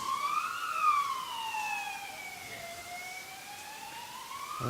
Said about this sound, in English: here goes another ambulance